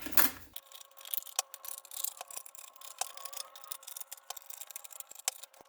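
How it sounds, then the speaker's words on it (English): Scissors snip through excess t-shirt fabric in a run of quick, light clicks and brushing cuts, close and quiet, with no talking. "So I'm just going to use some scissors."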